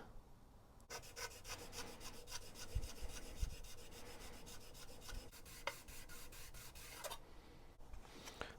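A steel card scraper's edges are sharpened flat by hand, producing a fast, even run of rasping strokes, close and fairly quiet, with a short pause before and after.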